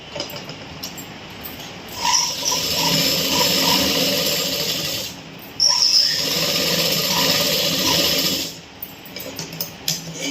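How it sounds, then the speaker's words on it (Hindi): A sewing machine stitching fabric for daily-wear pajamas, running in two close mechanical bursts of rapid whirring chatter of several seconds each, separated by a brief pause, with a few light clicks afterward. "अब मैं इसके ऊपर सिलाई लगा लेती हूँ।"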